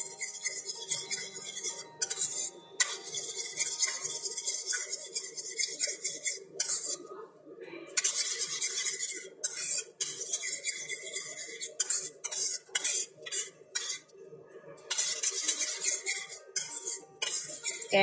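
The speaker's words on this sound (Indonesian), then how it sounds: "Kita aduk menjadi rata sini." A spoon stirs egg yolk, sweetened condensed milk and vegetable oil in a bowl for pineapple tart dough, with repeated clinking scrapes against the bowl in an irregular rhythm, close and fairly loud, with no talk.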